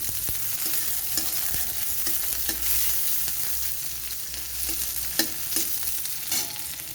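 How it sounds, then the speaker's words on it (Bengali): Long-sliced onion fries in a pan with a little panch phoron, hissing in a steady close sizzle broken by periodic scrapes and taps of a spatula. "পেঁয়াজটাকে একটু লাল করে ভেজে নেব"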